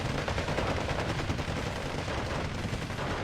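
Sustained, dense submachine-gun fire from a World War II strategy game, a loud continuous wash of overlapping bursts with no clear pauses.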